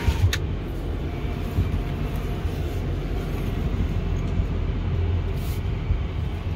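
A 2010 Ford F350 Super Duty XLT pickup with a Powerstroke V8 idles low and steady as it slowly backs out, a continuous close engine rumble with no talk over it.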